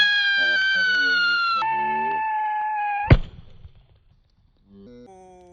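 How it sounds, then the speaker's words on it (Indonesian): A red Whistling King Thunder firecracker whistles loudly in a steady, slowly falling tone for about three seconds, ending in a sharp close bang with a brief rumbling tail, then quiet before faint tonal sounds return. "Whistling King Thunder warna merah."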